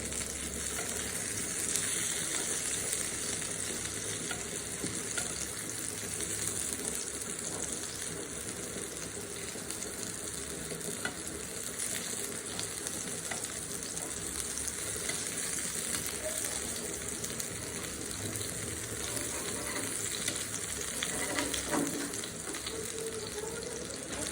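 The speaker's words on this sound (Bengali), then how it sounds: "আমি বেগুনগুলোকে উল্টে দিচ্ছি।" After being flipped, eggplant slices fry in a pan with a low, continuous sizzle and sputter, joined now and then by soft scrapes.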